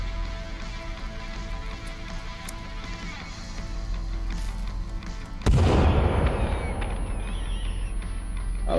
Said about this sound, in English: So what happened to the grenade that I threw in there?